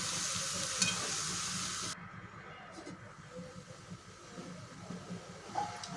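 Capsicum and besan sabzi is stirred in a pan, a soft sizzle with quiet scraping and stirring sounds at close range, dropping to a lower hiss partway through, with no talking.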